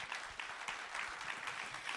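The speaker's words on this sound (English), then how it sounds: "can we get a round of applause for our panelists?" Audience applause for a panel at a wild horse Q&A session, a dense steady wash of many hands clapping throughout, moderately loud and without talk.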